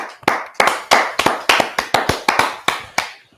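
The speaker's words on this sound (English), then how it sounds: "a round of applause to Liverpool Football Club, please" A dozen or so sharp, close hand claps in a loose, steady rhythm, thin rather than a full audience, during a football talk show tribute to Liverpool Football Club.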